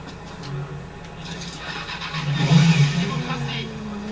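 Motorcycle engine in the video game Watch Dogs Bad Blood starting up and revving, a mid-pitched growl that swells toward the end, with someone talking over it.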